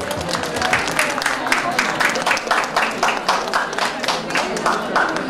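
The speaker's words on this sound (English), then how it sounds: "they really deserve a big applause from you. Or please give them a big hand" An audience at the NIIFT Suvyan 2019 event gives a big round of applause, a dense patter of many hands clapping at mid distance that carries on steadily throughout.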